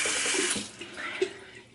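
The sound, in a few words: water from tap wetting an edge brush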